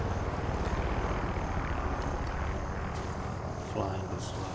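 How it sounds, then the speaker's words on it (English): A helicopter flies overhead in the video game Far Cry 5, a steady, broad rumbling drone that fills the whole stretch at even loudness. "Chopper, look."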